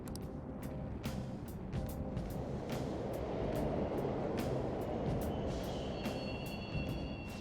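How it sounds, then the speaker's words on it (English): Subway trains rumble through a station in Persona 5 Royal, a steady low mechanical roar with periodic clacks and a hissing brake squeal near the end, continuous and fairly loud with no talk. "The trains are totally running."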